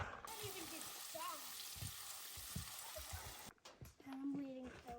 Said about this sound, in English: Filleted up some fish. Some walleye, sauger, a little bit of northern. Gonna do a fry.